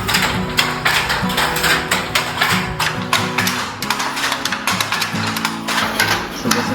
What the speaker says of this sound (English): we could hear the looms clanking.